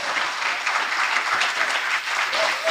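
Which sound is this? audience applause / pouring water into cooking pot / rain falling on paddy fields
audience applause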